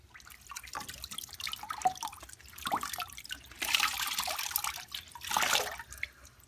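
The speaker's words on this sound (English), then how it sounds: "And then wring it out." A wet t-shirt wrung out over a bucket for tie-dye, water dripping and streaming down in a few separate bursts, the last two longer and louder, no voices.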